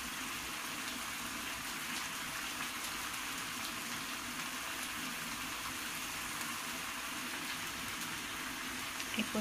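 Steady broadband hiss and gentle bubbling of water boiling in a pot on a stove, for cooking rice, continuous and unchanging throughout, fairly close.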